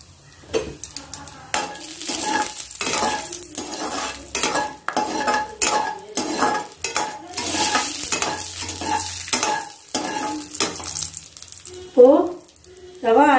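Cashews, raisins and cloves fry in a pan while a metal spoon stirs them, with repeated scraping strokes and clinks over a steady sizzle that grows louder near the end.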